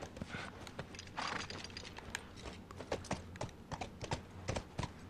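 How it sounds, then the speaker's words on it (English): Horse hooves clip-clop at a steady trot in The Last of Us video game, a rapid run of crisp clicks under soft background ambience, with no voices. "Let's get the horse."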